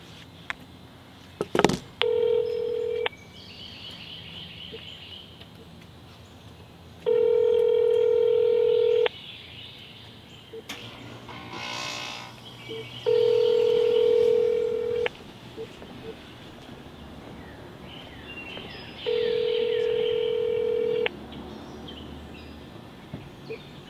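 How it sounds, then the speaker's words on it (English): An iPhone call rings out as four evenly spaced long electronic ringback tones, steady and clear, with faint background noise between them and a brief clatter near the start. "Calling Jonathan Ryan."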